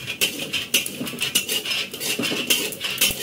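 Cumin seeds dry-roasting in a pan, giving a steady run of sharp crackles and pops with repeated metallic scraping of a utensil against the pan, close and fairly loud.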